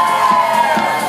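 A wedding crowd screams and cheers for Joshua and Carleen, a loud, dense wash of shouting and whooping voices sustained from start to finish.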